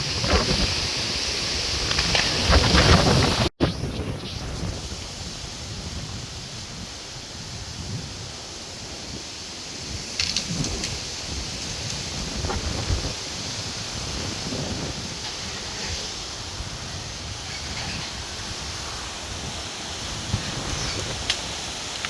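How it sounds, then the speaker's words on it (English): Strong gusty wind sweeping through an outdoor garden with pepper and tomato plants, a broad rushing roar on the microphone that swells and eases steadily, with no voices. "It's getting extremely windy out here."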